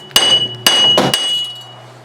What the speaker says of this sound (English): We'll try the small hammer first.